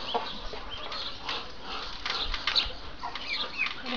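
Brahma chickens in a monastery farmyard cluck and flutter, with wing flaps and scratching mixed into a continuous outdoor bustle, with no speech.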